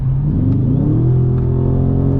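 A Dodge Charger Scat Pack 392 accelerates hard, its V8 engine booming close and loud with a deep, rising rumble throughout the short burst.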